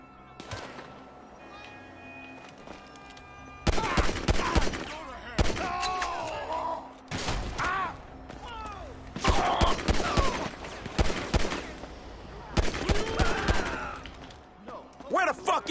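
Gunfire in the video game GTA 5, quiet at first, then several bursts of rapid shots in clustered volleys, loud and close, with voices talking between the bursts.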